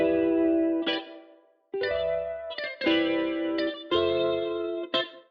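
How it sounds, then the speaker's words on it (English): Electric guitar played through a Guitar Rig basic jazz amp preset with RC20 effects, several sustained chords and notes with soft attacks, chorus-like shimmer and echo tails, separated by brief gaps, close and clear with no talking. "I added this guitar rig on the basic jazz amp preset."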